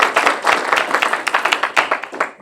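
A room full of people applauds the two pages Lauren and Lindsay at a student government session, a dense, steady patter of many hands clapping for a couple of seconds.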